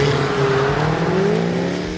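A 2015 Jaguar F-Type's supercharged 5-litre V8 revs steadily and loudly up close, its pitch rising smoothly as the throttle opens, with no voices over it.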